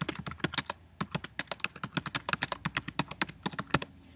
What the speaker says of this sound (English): I'll start typing within the text box.